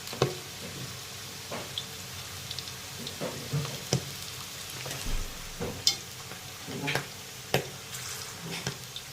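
Thin jackfruit bulbs fry in oil for Kerala-style chakka chips, a soft continuous bubbling broken by irregular clicks and spatters from stirring, heard fairly close.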